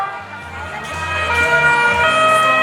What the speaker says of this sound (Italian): Arrivano i vigili del fuoco.